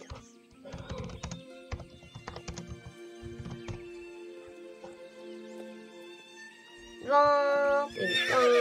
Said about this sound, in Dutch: Dit is mijn paard Boomer.